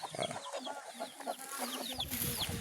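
Chickens cluck and squawk continuously nearby, a busy farmyard chorus with faint bird chirps mixed in.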